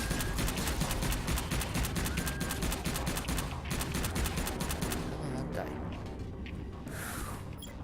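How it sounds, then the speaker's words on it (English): Grenades explode during a combat fight in the video game Subterrain, heard as dense, continuous rapid bursts of blasts and gunfire-like cracks. The noise stays loud throughout and eases slightly toward the end. "Why are these grenades so slow to blow up sometimes?"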